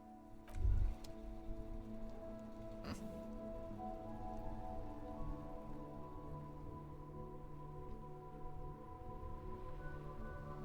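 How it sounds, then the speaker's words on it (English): Rain falls steadily in the Disco Elysium video game, a soft continuous patter on surfaces under a low ambient hum, with a brief thud near the start and no speech. "This rain will not let up anytime soon."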